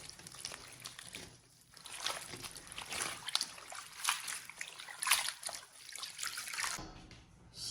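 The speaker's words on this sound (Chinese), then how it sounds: "多加一点点的清水，把韭菜给它清洗干净。" Fresh chives being rinsed by hand in a basin of water, with soft sloshing, splashing and trickling that rises and falls as the leaves are swished about, fairly quiet and close.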